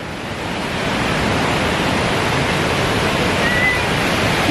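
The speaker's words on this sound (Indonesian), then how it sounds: "di bawahnya itu air terjun" A loud, close waterfall at Kepala Siring Kemumu in North Bengkulu, Indonesia, roars continuously, a thick steady wash of crashing water that swells in the first second and then holds.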